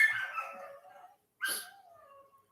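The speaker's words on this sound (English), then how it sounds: "when this dog is trained, I'll be so happy." A dog gives a couple of short barks and yips, a high whining burst near the start and another sharp bark about midway, close and fairly quiet, with trailing whimper tones between.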